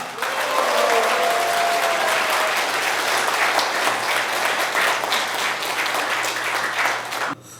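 An audience at a Liberty Korea Party members' meeting breaks into loud, sustained applause that fills the room, a dense wash of clapping from many people that holds steady before stopping abruptly at the end.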